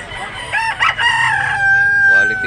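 A green-legged bullstag gamefowl rooster crows loud and close in one strained, wavering call that ends in a long held tone, with faint clucking from other fowl around it.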